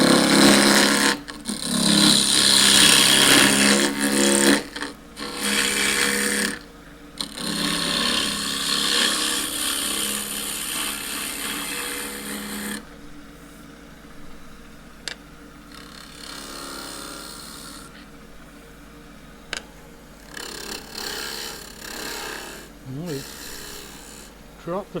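A wood lathe turns a small maple bowl as a half-inch spindle gouge cuts, giving a loud rasping, scraping hiss in long strokes that drops to a quieter whir and faint intermittent scraping later.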